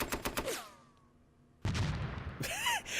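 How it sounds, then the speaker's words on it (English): A destroyed unit explodes in the Panzer Tactics HD strategy game, with a rapid burst of sharp cracks, a fading tail, then a sudden loud blast and noisy rumble. "No matter what you destroy, there's always that explosion."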